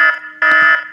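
A stock alarm sound effect from iMovie blares loudly and alone: a harsh, buzzing electronic alarm tone sounding in two strong pulses within a second.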